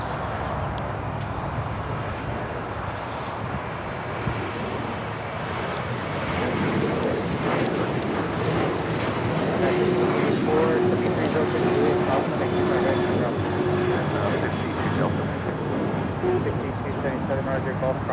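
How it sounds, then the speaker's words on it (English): A Boeing 737-800 of Alaska Airlines takes off at Los Angeles International Airport, a steady broad jet roar building over about eighteen seconds with wind buffeting. Radio chatter and talk run over it. "Next takeoff heading to Washington Reagan National Airport, Alaska Airlines Flight 6,"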